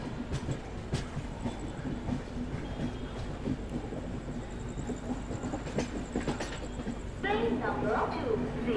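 The Mangla Lakshadweep Express arrives at Itarsi Junction with quiet, continuous rattling and clatter of rolling railcars at a distance. A louder squealing burst comes near the end.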